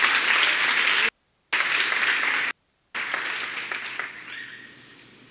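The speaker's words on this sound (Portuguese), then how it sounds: "Dê um aplauso bem bonito." A church congregation at a communion service claps together in a loud, dense burst of applause, cut by two brief gaps, then tapering off to a few scattered claps.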